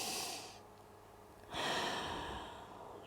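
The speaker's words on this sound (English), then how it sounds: "Try and relax, take 3 breaths." Deep, relaxed breathing from a person hanging forward in a stretch during a hamstring and back routine, with two long, soft exhales close to the mic and no talking.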